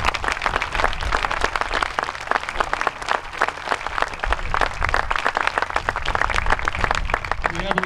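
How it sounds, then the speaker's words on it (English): Sustained applause from a crowd at an outdoor memorial wreath ceremony at the Vietnam Veterans Memorial Wall, dense and even clapping throughout, fairly loud and close. "Give him a round of applause, please."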